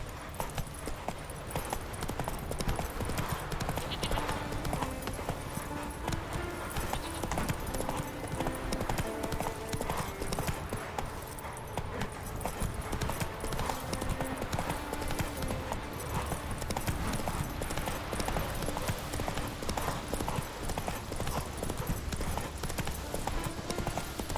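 Hooves clip-clop in a steady, rapid trotting rhythm as the horse Roach moves along in The Witcher 3, set under a full, loud bed of game music and ambience.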